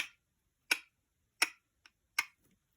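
Ticking of a stair lift chair after the trip switch cuts the power, imitated by a voice: four sharp, evenly spaced clicks about two-thirds of a second apart, with one fainter tick between the last two, close and alone.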